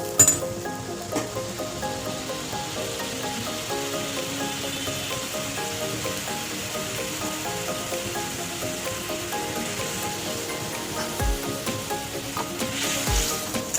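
Steady, loud sizzling of fish curry frying in a pan as water is added, a continuous crackling hiss with faint stirring knocks and no voices.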